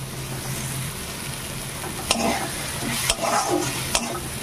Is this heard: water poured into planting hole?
no